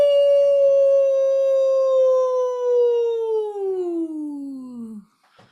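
A group of people joins in a long, loud wolf-like howl, a voice imitating a wolf that holds steady and then slides downward in pitch, trailing off near the end.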